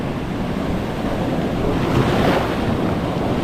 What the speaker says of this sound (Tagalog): Ayan, may alon.